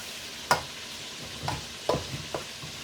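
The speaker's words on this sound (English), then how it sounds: "if I mix the onion and the butter, that could be a good snack" Onion and butter stirred together in a pan, with a faint sizzle broken by a few sharp spoon scrapes and clacks against the pan, quiet and close with no talking.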